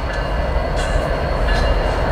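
Freight train locomotives moving around a rail yard at Commerce, a steady loud rumble of engines and rolling cars with a few faint high squeals, heard close and without talk.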